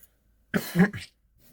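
A single short, throaty cough, close and fairly loud, in an otherwise quiet room.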